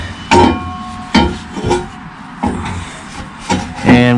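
A metal exhaust pipe is slid into place under a Ram 1500 pickup, producing a series of irregular clunks and scraping knocks, close and moderately loud, ending in a brief metallic ring.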